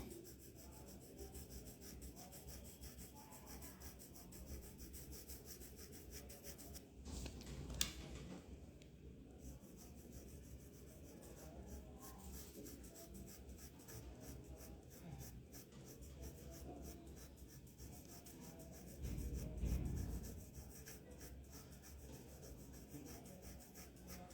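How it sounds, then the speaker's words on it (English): Soft, steady scratching and rubbing of a 6B graphite pencil shading across Fabriano 200 GSM paper, a continuous quiet rasp close to the microphone with a brief louder burst near the end, no voices. "So for this I am using 6B pencil."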